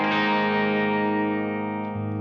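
A sustained chord on a Gibson SG electric guitar with high-output pickups rings out with a clean, shimmering tone and a reverb tail, through EQ and compressor pedals, then a low note is added near the end.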